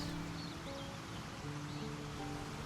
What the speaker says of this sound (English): This looks like the waterfall.